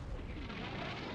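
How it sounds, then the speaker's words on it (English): Massive artillery barrage in the Cold War wargame Combat Mission, a continuous low roar of blasts and rumbling explosions blending together at steady loudness with no pause. "Who can withstand such a massive barrage?"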